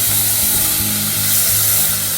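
Venison rangoon fries in a pan with a loud, close, steady sizzle and bubbling hiss that carries on unbroken from start to finish.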